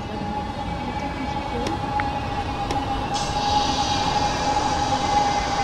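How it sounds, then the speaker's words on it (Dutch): An NS Flirt electric train in Train Simulator 2018 starts up, with a steady electrical hum and low rolling rumble, a few faint clicks, and a hiss of air rising partway through. "We starten de trein wel even opnieuw op"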